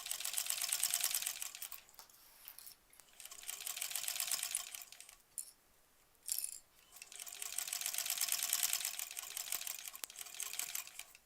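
A sewing machine stitches an embroidered pillow case in three bursts of fast, rattling needle clatter, with quiet pauses between runs while the fabric is adjusted.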